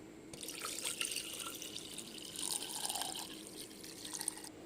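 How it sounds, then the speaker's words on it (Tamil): Water is poured into a clay pot of ragi for a village-style porridge, making a steady faint trickle and splash with small drips throughout. "இது ஃபுல்லாக தண்ணி முழுகிற அளவு தண்ணி சேர்த்துக்கோங்க."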